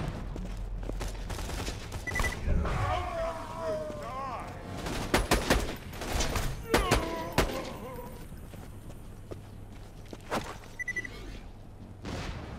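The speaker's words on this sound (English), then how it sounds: "Who's throwing grenades at me?" Borderlands 2 gameplay with grenade blasts and bursts of gunfire, several sharp loud explosions and rapid shot clusters scattered across the clip, with faint voices and background game noise.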